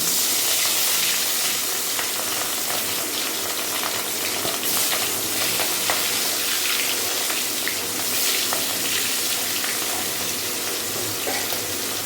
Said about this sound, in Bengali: চলো মাছটা ভেজে নিই।